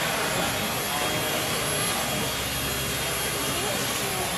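A model airplane flies at a model aircraft festival, its engine giving a loud, continuous, high-pitched whine that holds steady throughout.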